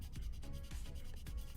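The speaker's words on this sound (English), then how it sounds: "My wave file's starting to rust a little bit, but it's not affecting the sanding at all" A sanding file rubs back and forth on resin model parts in quick, steady strokes, giving close, gritty scraping with no talking.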